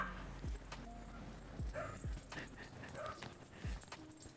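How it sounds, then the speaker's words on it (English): Dogs barking indoors in a kitchen, a few sharp yips and barks at irregular intervals, fairly faint. "What are we barking at, everyone?"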